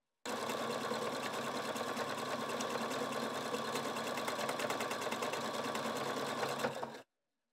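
A Husqvarna Viking Sapphire 960 sewing machine stitches an eyelet in one steady, continuous run of close, loud mechanical whirring lasting about seven seconds, then stops abruptly into silence.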